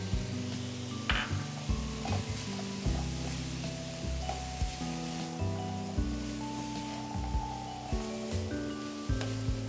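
Chopped carrot and capsicum sizzle in a hot pan while they are stirred for a cottage pie. A steady frying hiss runs under repeated scraping and clinking from stirring.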